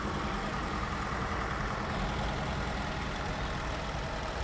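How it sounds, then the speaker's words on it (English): A modern tractor engine runs steadily during an Oshkosh Fourth of July parade, a continuous low rumbling idle heard fairly close with no pauses across the stretch. "This looks like a really modern tractor."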